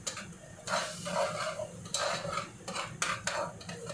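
Macaroni sauce ingredients being sautéed in a pan, a utensil scraping and stirring in repeated strokes over a continuous sizzle, close and clear with no voices.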